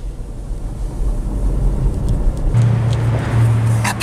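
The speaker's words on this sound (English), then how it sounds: "This car rides like a dream." A car driving along with a steady low engine rumble and road noise, close and continuous, the drone growing slightly heavier partway through with faint higher rattles near the end.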